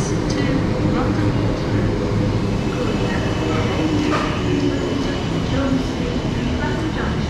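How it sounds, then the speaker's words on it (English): A South Western Railway class 455 electric train pulls into a station with a steady, loud rolling rumble and rail noise sustained throughout, a continuous close hum with faint clanks on top. "in comes our train. This is 455871."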